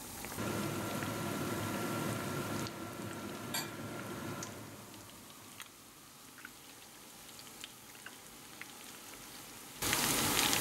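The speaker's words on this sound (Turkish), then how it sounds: "Pişileri ısınmış olan yağa bırakıyorum." Cheese-filled pişi dough frying in hot oil at medium heat sizzles and crackles steadily, a fizzing bubbling hiss that fades quieter partway through before surging loud again at the end.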